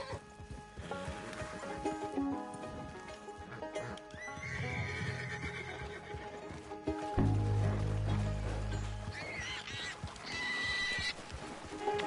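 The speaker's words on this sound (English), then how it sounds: "Let's jump on this horse." Horse whinnying in the Red Dead Redemption 2 video game, several loud neighs rising over steady game music and ambience, with hoof clip-clop underneath.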